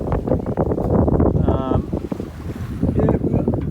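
A sailboat under full sail at sea off Pacific Mexico, with a steady rush of wind and water, buffeting wind noise on the microphone, and a person talking over it.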